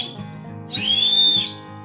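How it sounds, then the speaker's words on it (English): A UST Jet Scream survival whistle blown once, a loud piercing high shriek lasting under a second after a quiet moment, close and alone. "And there is the UST Jet Scream whistle."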